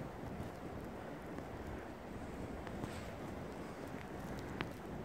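Steady, strong wind roars and buffets the microphone throughout, a dense continuous rush with no breaks.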